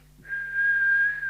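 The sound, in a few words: whistle test into a Midland CB radio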